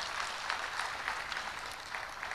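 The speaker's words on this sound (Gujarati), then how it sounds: "આપ સૌની જોરદાર તાળીઓ મિલિંદ ગઢવી માટે" Dense, continuous applause from a festival audience greets poet Milind Gadhvi, a sustained wash of many hands clapping at even loudness throughout, with no speech over it.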